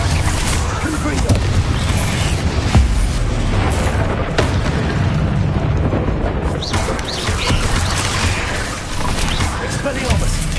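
Repeated booming blasts from the Confringo spell in the Hogwarts Legacy video game rumble through a dense, continuous battle din, loud and close with crackling bursts layered over heavy low roar.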